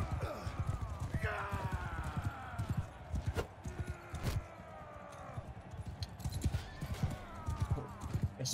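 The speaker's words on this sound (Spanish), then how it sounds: "vamos a caballo" Horse hooves clip-clop in Mount & Blade II: Bannerlord as a rider sets off, with dense, overlapping hoofbeats from several mounts. A horse whinnies briefly early on over the busy trampling.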